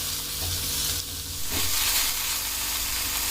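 Onion and tomato sauté in a pan, giving a steady close sizzle and hiss with a brief stirring scrape partway through.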